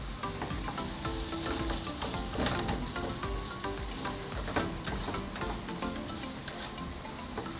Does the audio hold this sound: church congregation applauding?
no